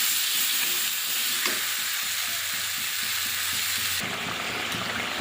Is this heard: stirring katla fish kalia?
yes